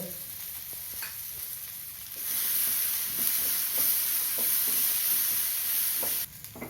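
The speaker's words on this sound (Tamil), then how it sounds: "இப்போ தேங்காய் பூ சேர்த்துக்கிறேன், 1/2 கப்பு." Grated coconut sautés with boiled groundnuts in a pan. A soft sizzle turns into a louder, bright hiss as it hits the heat, and steady stirring scrapes repeat under it before the sound drops near the end. No one speaks.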